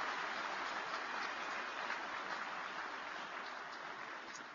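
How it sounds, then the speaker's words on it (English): An audience at CPAC applauds, a steady wash of clapping from a large crowd, fairly distant and fading slightly toward the end. "Would you give Karen one more round of applause for all that she does for the cause in the country?"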